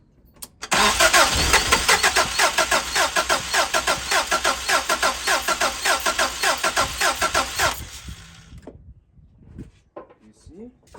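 A car engine cranks over repeatedly, its starter churning in a fast, steady pulsing rhythm for about seven seconds before cutting off into near quiet with a few faint knocks.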